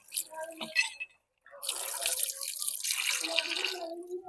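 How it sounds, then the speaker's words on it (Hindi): Cold drinking water streams from a park tap, a steady splashing gush that briefly stops and then runs again, close and clear. "और मैं बिल्कुल देख रहा हूँ यहाँ पे काफ़ी ठंडा पानी आ रहा है"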